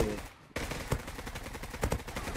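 Gunfire in the game Zula: after a short quiet gap, rapid bursts of automatic shots with sharp individual cracks, fairly close and moderately loud.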